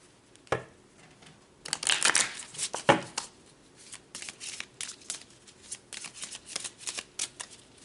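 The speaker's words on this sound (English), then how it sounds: "cut them in 3 piles because this is a big deck" A large tarot deck is handled and cut into three piles, giving close, crisp card riffles and slaps in uneven bursts with short gaps.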